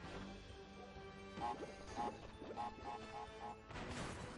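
Wooden crates smashing in the PlayStation game Crash Bandicoot 3, a series of sharp breaking cracks in quick succession over busy game music, with no talk.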